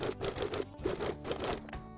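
A sewing machine stitches a close topstitch along a pocket seam on elastic-waist shorts, running in quick rhythmic bursts with brief pauses, fairly near and steady, no talking.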